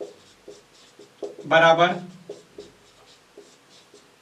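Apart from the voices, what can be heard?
writing a maths solution by hand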